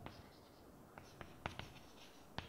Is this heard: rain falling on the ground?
no